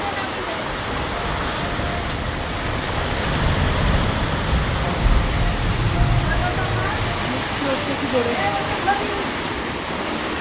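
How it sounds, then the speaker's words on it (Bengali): Heavy rain pours steadily during a storm, a dense, continuous broadband wash that swells slightly in the middle, with faint voices underneath. "দেখো এত জোরে বৃষ্টি হচ্ছে"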